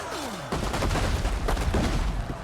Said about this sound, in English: Artillery coming in. I don't know who's firing that. Who's firing artillery?